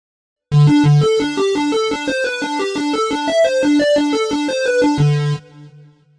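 A synth lead patch, played without high gain: a clean, bright lead runs a quick melodic line of rapid notes for about five seconds, then holds a final note that fades out. No voices.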